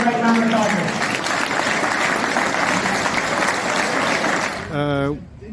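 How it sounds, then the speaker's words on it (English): Audience applause at a charity cattle sale, a dense sustained clapping from a crowd lasting several seconds, with a voice speaking over it near the start and a louder voice cutting in as the clapping ends. "put our hands together and applaud this great man beside us"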